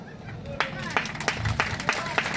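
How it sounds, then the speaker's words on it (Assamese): An audience at an Assamese political rally claps in a short, sparse, uneven burst of individual hand claps, with a speaker talking over it on a loudspeaker. "হাত চাপৰি যে কমকে মাৰিছে"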